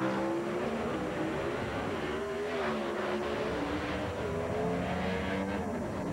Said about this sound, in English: Delco out of Kentucky, driving the Jerry Haas Corvette. 438 cubic inch combination underneath the hood.